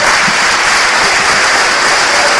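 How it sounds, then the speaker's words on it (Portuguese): Church congregation clapping together during a sermon on the loaves and Jesus walking on water, a dense, steady roar of handclaps sustained evenly and loudly from start to finish with no voices over it. "Dê uma salva de palmas a Jesus."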